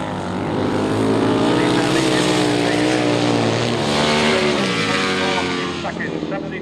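Grasstrack motorcycles racing up the back straight at the British Grasstrack Championships, a loud continuous engine roar with shifting pitch as the bikes pass, with race commentary talking over it.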